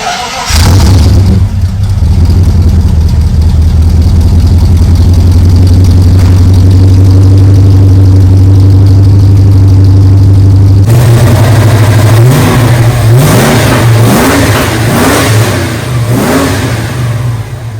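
A Holden VK Commodore engine cranks and catches, settles into a loud steady idle, then revs up repeatedly in quick bursts.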